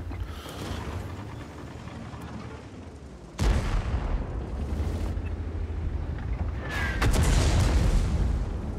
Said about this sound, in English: listen to that whiz bang from the lefty